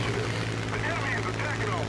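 A fighter plane engine roars steadily in War Thunder. It is a constant throbbing propeller drone that stays loud and close throughout, with no breaks.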